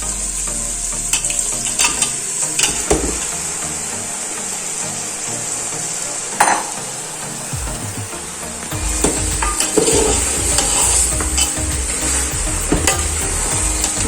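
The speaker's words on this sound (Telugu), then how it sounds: "ఇవంతా కలిసేట్టుగా బాగా మిక్స్ చేసుకోండి." Mutton pieces and tomato chunks stirred in a hot pan: a steady bright sizzle with repeated scrapes and clacks of the spoon, close and fairly loud, no voices.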